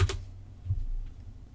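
Quick, soft taps on a computer keyboard while retyping a file name, a short burst of a few keystrokes close by in an otherwise quiet room.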